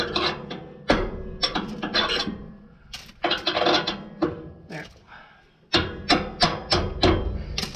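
A hammer taps a metal hanger in uneven clusters of sharp knocks and scraping rasps, heard close up with brief pauses between the bursts of strikes.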